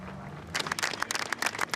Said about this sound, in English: Applause from the teams.